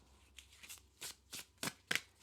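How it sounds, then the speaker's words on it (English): Overhand shuffling of an oracle card deck: a series of soft, papery swishes and slaps, about seven quick strokes in a steady rhythm, close and quiet with no talk. "For the overhand shuffle"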